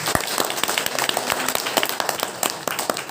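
An audience at a Sunday church gathering claps loudly, with a dense, uneven patter of many hands beating close and continuous throughout.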